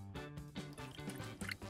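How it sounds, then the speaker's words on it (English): Granulated sugar, golden honey and a splash of water pour into a small saucepan, giving soft drips and wet plops at irregular intervals over a faint steady background hum, with no talking. "carefully pour in the granulated sugar, then the golden honey, and just a small splash of water"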